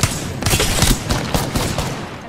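Rapid gunfire in Apex Legends, a dense run of sharp shots in quick bursts, loud and close, with short gaps between volleys.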